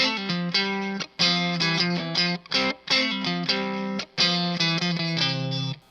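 An electric guitar plays a quick lick with hammer-ons and pull-offs through heavy effects, notes ringing with distortion and a shimmering modulated tone, separated by brief pauses.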